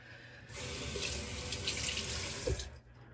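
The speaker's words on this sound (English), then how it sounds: "Let me kind of clean up this brush a little bit." Shaving brush rinsed under a running tap, a steady splashing rush of water that starts abruptly, runs about two seconds with a brief spattering bump near the end, then cuts off.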